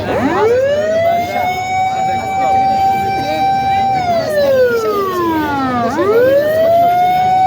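A loud wailing siren sweeps up and down continuously, holding a long high tone before dipping low and rising again, with traffic rumble underneath.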